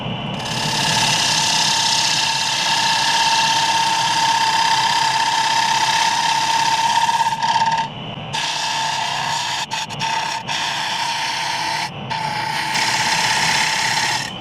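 A wooden bowl turned on a lathe gives a steady machine hum with a sustained tonal whine while the tool cuts, broken by brief drops and pauses near the end.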